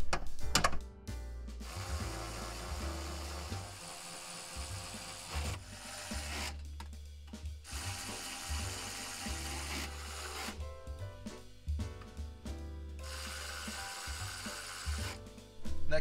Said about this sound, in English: Tighten them all down.